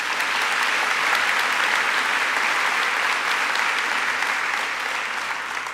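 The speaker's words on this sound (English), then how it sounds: "Brent Lee, let's give him another round of applause." Audience at a school keynote program applauding, a broad, continuous wash of many hands clapping at a steady level from start to finish, gradually easing slightly at the end with no speech.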